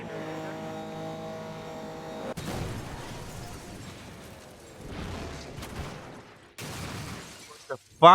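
A racing car crashes in a video game: an engine drones, then sudden harsh impacts and scraping bursts hit loudly, with more crunching noise and a sharp final bang.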